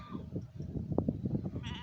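Dorper sheep bleat softly on a farm, a short, faint cluster of calls heard at a distance over low background noise.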